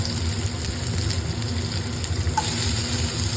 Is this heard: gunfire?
no